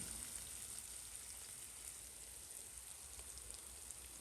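Ingredients frying in a pan with turmeric and chili powder, a steady faint crackle and hiss running evenly throughout without talk.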